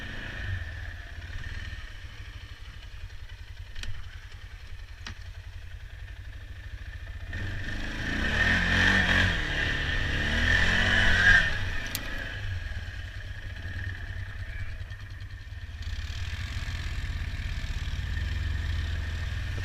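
An ATV engine revs on a muddy trail: a steady rumbling drone that swells louder and rougher midway as the throttle opens, then settles back to a constant run.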